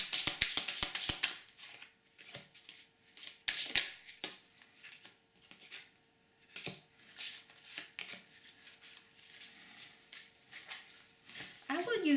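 A tarot card deck being shuffled by hand, quick riffling bursts and crisp card snaps separated by quiet pauses, close and clear, with a voice speaking briefly near the end.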